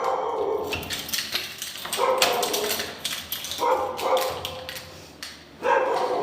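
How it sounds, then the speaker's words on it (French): A neighbour's dog barks and yips in short bursts outdoors near a doorway, fairly close, with a few whimpering notes between barks. "c'est le chien de la voisine."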